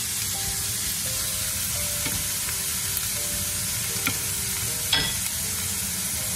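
Eggplant and onion frying in a pan with chopped cherry tomatoes added, a steady, close, strong sizzle with occasional stirring scrapes and light clatter, without talk.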